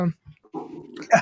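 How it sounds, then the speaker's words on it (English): A house dog reacts to the postman with short, rough growling barks in a few bursts, close by, mixed with a person talking. "my dog's gonna bark at the postman"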